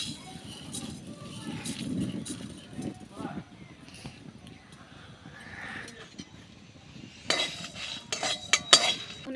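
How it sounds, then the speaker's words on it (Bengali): Dry red chilies and coriander seeds are stirred in a wok, giving a steady low scraping and rustle, with sharper metallic clinks and scrapes of the spatula near the end. "আগে কড়াইয়ের মধ্যে লঙ্কাগুলো দিয়ে দেবো আর ধনে"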